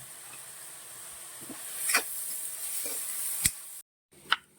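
Onions and curry leaves sauté in a pan with a low steady sizzle, broken by a few sharper stirring scrapes and clicks, then a brief gap and one more stir.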